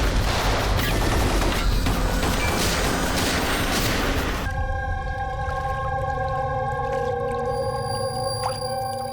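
A heavy burst of gunfire on command, dense and loud for about four seconds, then cutting abruptly to steady tonal hum and faint background sounds.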